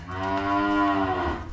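Cattle at a Vietnamese farm, a Charolais cross among them, give a single loud, close moo lasting over a second, with no talk.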